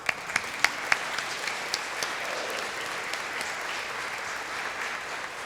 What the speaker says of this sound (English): give you a round of applause for helping putting this together